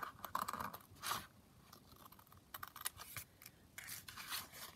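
Scissors cut around paper labels for craft embellishments, making several quiet, close snipping and slicing strokes at an uneven pace over a faint background.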